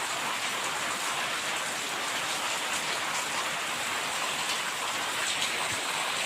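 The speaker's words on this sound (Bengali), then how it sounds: "এবার দেখছি এখনও পর্যন্ত বৃষ্টি হয়েই যাচ্ছে।" Steady rain falls during the rainy season, an even, dense patter on surfaces that holds at the same level throughout with no voices.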